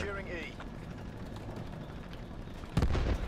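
An RPG blast in Call of Duty Black Ops Cold War multiplayer hits near the end as a sudden loud boom. Before it comes a steady bed of battlefield noise and a brief rising tone.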